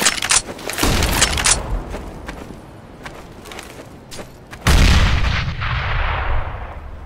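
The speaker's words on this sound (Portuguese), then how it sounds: "Flashbang." A flashbang grenade goes off in Counter-Strike: Global Offensive gameplay: a loud, sharp blast near the end, whose ringing roar slowly fades. Earlier come several bursts of game gunfire and rumbling.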